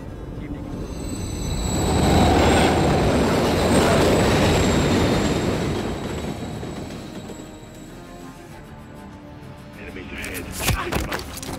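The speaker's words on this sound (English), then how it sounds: "Another train coming." A train in Call of Duty: Modern Warfare 3 rumbles past, swelling to a loud roar then fading, with metallic rail squeals and clatter; a voice talks over it and sharp clanks near the end.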